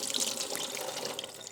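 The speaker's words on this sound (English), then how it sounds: "Now we can take the insert and dump the liquid." Liquid from a slow cooker insert pours out into a sink in a steady, splashy rush, fairly close and continuous with no talking.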